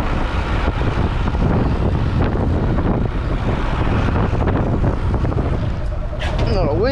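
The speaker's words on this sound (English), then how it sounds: "Windy out here." Strong wind blows steadily across open water at Haulover Inlet in Miami, near a boat being raised. It roars and buffets the microphone without a break for the whole stretch.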